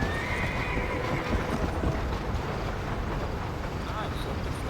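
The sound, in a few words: horse galloping in video game Red Dead Redemption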